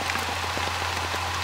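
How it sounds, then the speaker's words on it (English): Rain patters steadily during an easing thunderstorm, with scattered individual drops ticking on a nearby surface over a low constant hum; no one speaks. "Rain's starting to die down."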